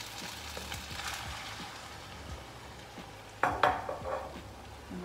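Butternut and ginger risotto is stirred in a pot, making a soft scraping and sloshing sound with a faint sizzle. A louder clink of utensil on pot comes near the end.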